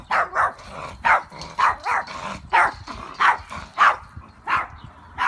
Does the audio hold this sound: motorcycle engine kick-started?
no